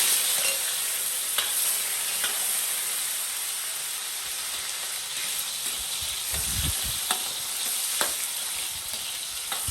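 Chopped onion and tomato sauté in hot oil as the base for pork hock sinigang, giving a steady close sizzle with a few light stirring clicks throughout and no voices.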